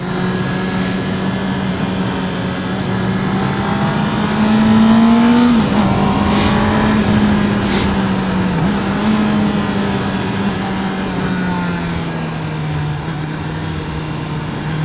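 A 2019 Honda CB650R motorcycle engine being ridden on the road, droning steadily with gentle rises and dips in pitch as the throttle opens and eases, loud and close under heavy wind rush, no talking.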